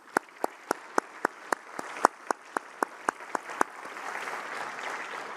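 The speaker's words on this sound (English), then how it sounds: "Please join us once again in applauding all of our new Honor Society members." Sparse, evenly spaced claps from a small audience at an honor society induction ceremony, about a dozen distinct sharp hits fading into a soft murmur of room noise.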